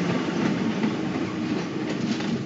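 A subway train rumbles along the rails in a continuous, even roar with faint clattering, heard alone and fairly close throughout.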